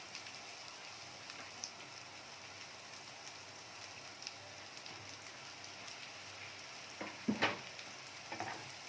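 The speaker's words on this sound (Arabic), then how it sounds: "نبدا بقى نشوحه كده برضو ياخد تشويحه مع البصله" Sliced mushrooms sautéing in a pan with caramelized onion, a steady soft sizzle and crackle throughout, with a brief louder clatter of stirring near the end.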